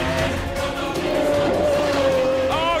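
Pagani Zonda R supercar driven hard at racing speed, a loud continuous engine roar with a rising whine throughout, steady and close with a brief higher tone near the end.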